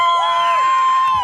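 Spectators at a 2009 hydrofoil riding event in Jacksonville, Florida cheer for a rider, with a loud sustained whistle and a whoop riding over crowd noise close by.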